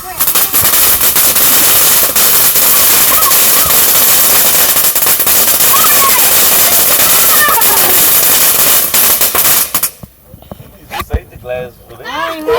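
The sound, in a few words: fireworks exploding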